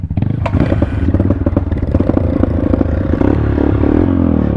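A motorcycle rides on a mountain road near Mount Lagyo, its engine running loud and close with a steady, throbbing rumble and some rattling clatter throughout.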